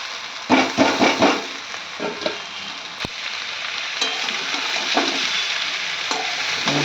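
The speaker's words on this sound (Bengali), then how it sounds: "এখন চাউমিনটা এর মধ্যে ঢেলে দেবো" Chow mein is tossed and stirred in a hot pan, with several sharp scraping stirs at first, a single clank, then a steady close sizzle broken by further stirring.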